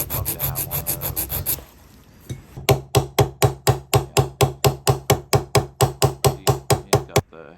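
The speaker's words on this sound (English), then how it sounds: "He has a little file there that's pretty cool." A small file rubs back and forth across guitar frets during a restoration, first a quick run of fast strokes, then a short pause, then a long even series of rasping strokes close by, with no talking.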